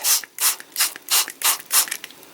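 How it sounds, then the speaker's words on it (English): A spray bottle mists water onto freshly planted sage seeds with about six quick, evenly spaced hissing squirts, close and crisp, with no talking. "just give that the traditional spray to water the stuff on top"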